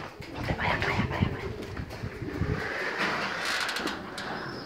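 Racing pigeons, a male and a female, coo softly amid fluttering and flapping wing noise at a pigeon competition, with steady outdoor background hum throughout.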